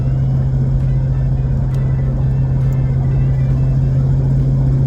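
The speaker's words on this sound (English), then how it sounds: "how much traffic there is on this road today" Steady road traffic on a Sunday morning, a car engine rumbling continuously up close with a strong low hum throughout, no distinct pass-by peak, no talk.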